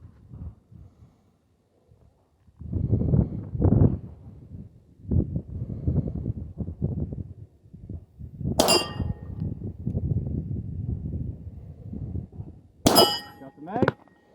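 Two sharp metallic clangs ring out at a shooting competition as rounds strike steel targets, separated by several seconds, over gusty wind noise and low rumbling.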